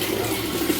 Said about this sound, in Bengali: কলেরও আওয়াজ আরম্ভ হয়ে গেছে।